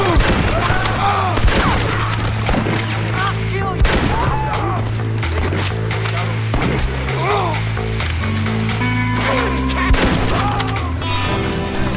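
Gunfire from pistols, rifles and shotguns in the video game Red Dead Redemption, rapid bursts of shots ringing loud over a bed of game music and effects.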